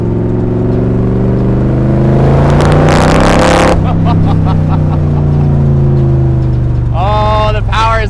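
A 1965 Shelby Cobra's engine roars loud and close while accelerating on the road, a steady deep drone that swells into a harsh rising rev midway, then settles; a voice speaks briefly near the end.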